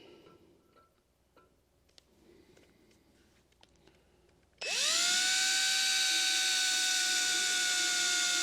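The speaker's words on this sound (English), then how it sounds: "Let me drill this one." A loud, steady high-pitched whine of a power drill boring into a metal part of a Stover 1-1/2 HP K gas engine kicks in abruptly after a few seconds of quiet clinking and shuffling.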